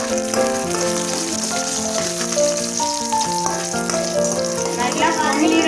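Urad dal, dried red chillies and garlic fry in a kadai, a continuous sizzling hiss running under prominent background music.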